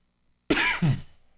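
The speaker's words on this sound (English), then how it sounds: "I've got this mystery cough" One sharp, close cough breaks into two quick harsh bursts, then fades into silence.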